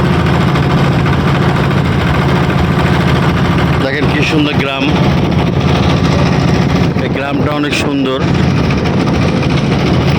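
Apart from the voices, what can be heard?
trawler boat engine on a river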